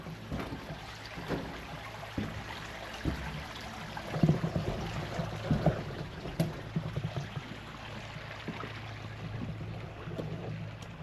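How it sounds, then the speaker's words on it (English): A small creek flows by a mill, a faint, steady trickle and wash of water with scattered soft splashes and knocks, heard alone at a distance. "Little creek by the mill."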